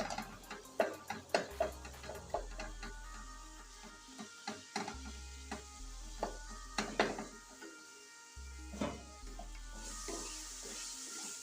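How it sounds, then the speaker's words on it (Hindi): A spoon scrapes and stirs tomatoes in a sizzling karahi of chicken charsi karahi, with irregular clinks and scraping strokes over a low frying hiss and brief pauses, no talk. "अब ये जो टमाटर हैं इसको हम ऐसे करके इनको मिक्स कर लेंगे।"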